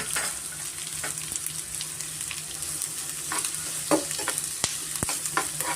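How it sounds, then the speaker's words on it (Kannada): Onions frying in butter in a pan for butter paneer masala, a continuous close sizzle with scraping stirs and a few sharp utensil clinks against the pan near the end. "ನಾನು ಚೆನ್ನಾಗಿ ಬೆಣ್ಣೆನಲ್ಲಿ ಸ್ವಲ್ಪ ನಾನು ಫ್ರೈ ಮಾಡ್ಕೊತೀನಿ ಮೊದಲಿಗೆ ಆನಿಯನ್ ಸೇರಿಸ್ಕೊತಾ ಇದ್ದೀನಿ"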